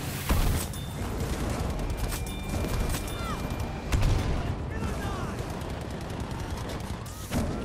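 Enemy fire aimed at the player's Churchill Crocodile tank in Battlefield V, a continuous clatter of rapid shots, whizzing rounds and occasional heavier impacts over a low rumble, moderately loud throughout.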